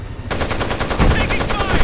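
Rapid automatic gunfire from the video game Ghost Recon Advanced Warfighter, a loud fast string of sharp shots kicking in after a brief quiet start and continuing steadily, with heavier low thuds near the middle.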